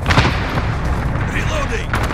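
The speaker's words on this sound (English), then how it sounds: "Allied cluster strike incoming." Cluster strike explosions in Call of Duty: Modern Warfare on the St Petrograd map, dense overlapping booms and blasts that rumble continuously for about two seconds, loud and close, with no clear talk.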